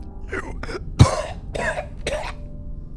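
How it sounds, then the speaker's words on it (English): A run of several rough coughs in quick succession, close to the listener, one louder hack in the middle, over a faint background hum. "That was a real cough."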